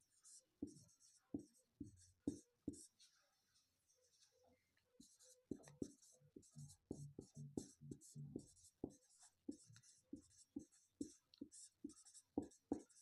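Hand-written notes scratched onto paper with a pen during a Hindi lesson on economic sectors, a steady run of quiet, close pen strokes with short pauses between bursts.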